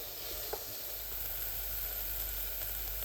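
Shallot onions sweat in a pan with a soft, steady sizzle and hiss that runs unbroken at low volume, close by, with no voices over it.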